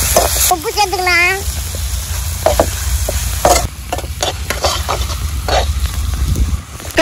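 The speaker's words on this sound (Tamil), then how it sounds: "தக்காளி வெங்காயம் எல்லாம் நல்லா வதங்கிட்டு" Tomato and onion fry in a pot, with steady sizzling broken by stirring scrapes and clinks, and a brief voice heard near the start.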